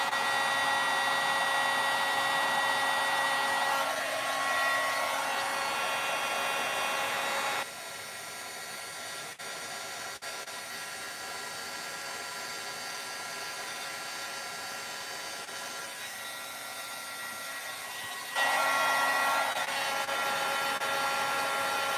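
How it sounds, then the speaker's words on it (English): A heat embossing tool blows hot air onto stamped layers of a dainty bouquet card, a loud steady whirring roar that dips and returns as the tool moves, with no voices. "I will say it's a lot of heat embossing."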